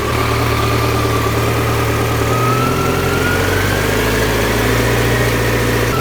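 BMW K100RS 16V motorcycle engine running on its fast idle mechanism, a loud, close, steady drone with a slightly rough, uneven pulse that shifts pitch a little partway through.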